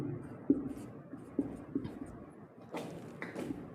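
Chalk writing on a board during a physics lesson: a few sharp taps and short scratches spaced irregularly, followed by softer rustling strokes, close by in a quiet classroom.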